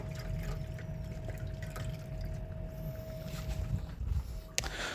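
Water is poured out for dogs, a steady rushing, splashing wash of liquid that runs nearly five seconds at moderate loudness, ending with a small clink near the end.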